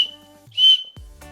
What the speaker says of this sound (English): Let's see if the whistle works on this.